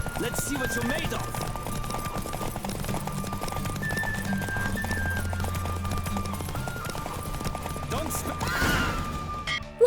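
A horse gallops hard in The Witcher 3, rapid hoofbeats pounding steadily up close over music, with a whinny and a sharp impact near the end while a voice talks over it.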